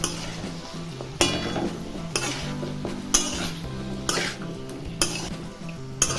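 Jackfruit seeds fry in a spiced tempering with Kolhapuri chilli powder, a steady sizzle broken roughly once a second by a metal spoon scraping and clinking against the pan as they are stirred, with no talk.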